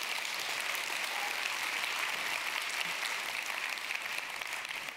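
An audience at a literary evening in The Hague keeps up dense, steady applause without a break, the clapping level and fairly close throughout.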